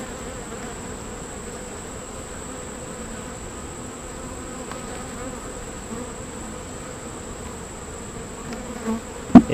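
A soft, continuous hum of many honey bees buzzing nearby at a hive frame packed with honey, steady throughout with an occasional louder buzz passing close at the end.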